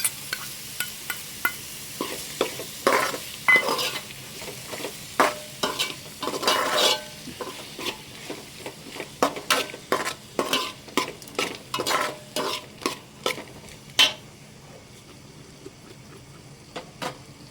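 Chopped tomatoes frying in oil for tomato rice are stirred with a spoon that clatters and scrapes the pan in irregular bursts over a soft sizzle, close by, with no talking.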